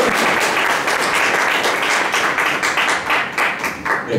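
An audience at a startup investment forum gives a loud burst of clapping that swells and flutters unevenly for about four seconds.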